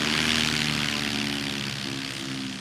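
A STOL airplane's engine surges with a burst of power during a landing at the 2025 Music City STOL Competition, a loud, close propeller drone that holds steady and then eases slightly toward the end.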